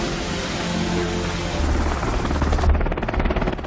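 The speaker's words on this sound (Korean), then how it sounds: "다음날 수송 헬기가 도착하고" A transport helicopter arrives with a loud, continuous rotor roar, its thumping blade beat growing stronger and more pulsing toward the end, no voices present.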